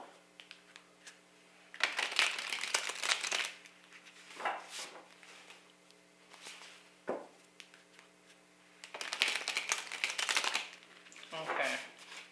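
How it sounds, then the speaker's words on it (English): A deck of tarot cards is shuffled by hand close up, crisp riffling bursts repeating in several rounds with quieter taps and card handling between them, no talk over it. "Get a good shuffle on these cards"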